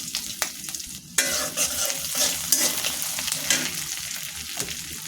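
Dried chilli, a bay leaf and chopped onion hit hot oil with a sudden sizzle, then fry steadily under scraping stirring strokes. They are the start of a beef and long bean stir-fry.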